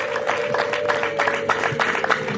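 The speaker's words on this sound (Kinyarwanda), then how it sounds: "mwongere mukoma amashyi menshi cyane" Continuous crowd clapping at a wedding celebration for a blind couple, a busy, even patter of many hands running throughout with a faint steady tone sitting underneath.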